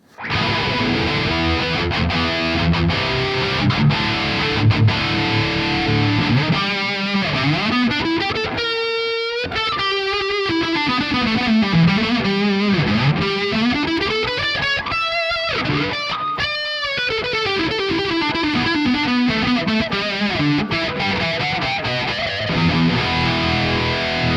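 Distorted electric guitar played through a ToneX amp tone model with the depth control turned all the way up, a continuous loud riff of sustained chords and bending lead notes with no talking.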